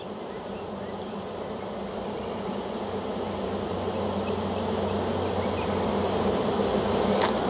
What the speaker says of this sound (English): I don't know if you can hear their buzzing, but they're making a lot of noise.